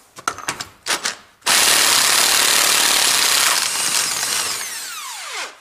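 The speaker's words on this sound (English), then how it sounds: "now I can use this my electric impact driver" An electric impact driver loosens a nut, opening with a few short bursts and then a long, loud, continuous hammering whir that winds down with a falling pitch at the end, close up.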